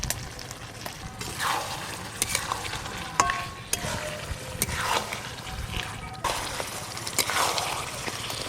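Chicken kosha sizzles and bubbles steadily in hot oil in a pan, a continuous close frying hiss with occasional stirring scrapes and no talk.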